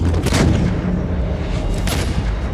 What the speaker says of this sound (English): The artillery opened, the mortars opened, the infantry posts opened.